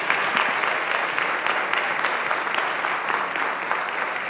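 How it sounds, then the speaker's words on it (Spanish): A church congregation breaks into sustained applause during a bilingual sermon, a dense, even roar of clapping hands filling the sanctuary, with no speech over it. "Give God a round of applause."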